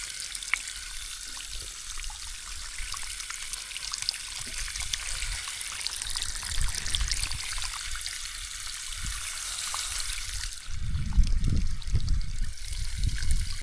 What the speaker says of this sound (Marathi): इथे पाणी जास्त प्रेशर पडायला लागलं